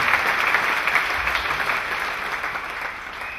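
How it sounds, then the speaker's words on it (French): Church congregation applauding during a prophet's sermon: steady dense clapping from a large crowd filling the room, loud and continuous, gradually easing slightly toward the end. "Clap for Jesus again."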